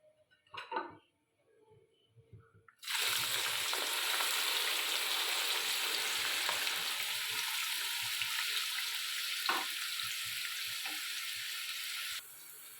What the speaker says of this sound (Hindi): इसमें मैं पहले करूँगी प्याज फ्राई